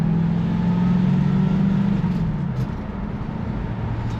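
Steady engine drone with a low hum and road noise from a 1973 Ford Maverick with a manual gearbox on a road test, close and continuous, the pitch settling slightly midway.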